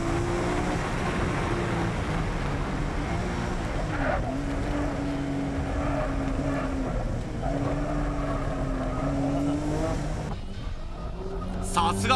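A 600-horsepower race car accelerates hard along a Japanese mountain pass during a touge battle, its engine note rising steadily and loud throughout, with a commentator's voice running over it.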